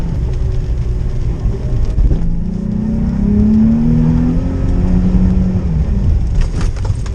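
Nissan 350Z engine revs hard and steadily during street drifting, a loud sustained drone that rises in pitch through the middle of the run before easing off, with no talk over it.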